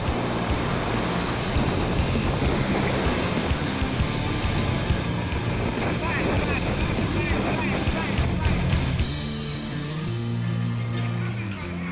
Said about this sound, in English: Monster waves are pounding the coastline.